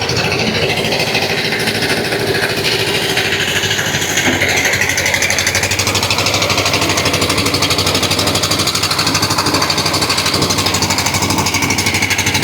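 A machine loading ice onto a fishing boat at Karanja fish market runs steadily and loudly, a dense, continuous mechanical rattle and grind that never lets up, with no voices.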